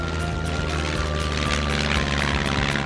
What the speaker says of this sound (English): The seaplane is picking up speed and taking off.